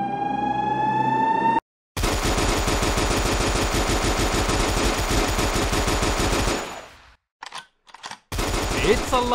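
Rapid automatic weapon fire from a video game, a dense continuous burst of shots with impacts lasting several seconds, then a short pause and a few more clipped bursts, loud and close.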